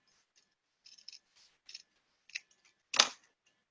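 A few quick snips of scissors trim excess material at an edge while an aquarium interior is being built, each crisp cut short and close, the last one the loudest.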